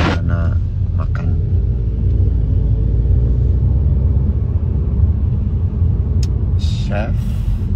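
A car drives slowly while looking for a parking spot at a restaurant, giving a steady loud engine and road rumble throughout, with people talking over it.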